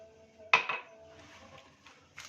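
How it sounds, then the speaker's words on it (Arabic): Cake batter of eggs, milk, sugar, oil and vanilla beaten in a bowl for a fruit cake, with a sharp clatter of utensil against the bowl near the start, then softer scraping and knocking that fade and return. "وهنضرب المقادير مع بعضها"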